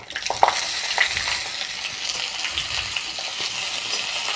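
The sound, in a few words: chopped onions frying in mustard oil with cumin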